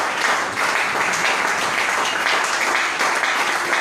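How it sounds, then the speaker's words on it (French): A church congregation applauds in dense, continuous clapping that stays loud and even from start to finish, with no break. "Est-ce qu'on peut acclamer pour le Seigneur?"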